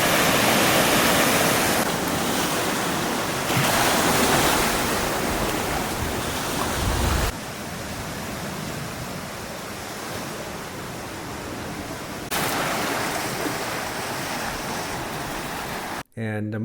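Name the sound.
ocean waves at a beach in the Seychelles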